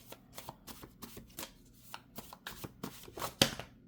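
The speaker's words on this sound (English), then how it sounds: "I'll do 3 shuffles." Tarot cards are shuffled in quick bursts of riffling and slapping, close and crisp, with a sharper snap near the end and no speech.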